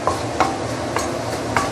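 Curry paste sautéing in a pan with oil separating out, a steady low sizzle broken by four evenly spaced scrapes of a spatula stirring, close and clear with no talking.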